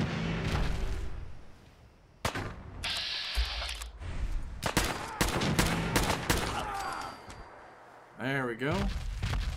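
Weapon fire in Fallout 4 comes as a burst of sharp, loud gunshots with mechanical clatter, under a steady bed of game ambience and occasional talk.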